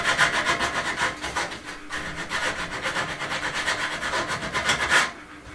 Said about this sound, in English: let's give this a rub off now, make it all nice and rounded and blend it in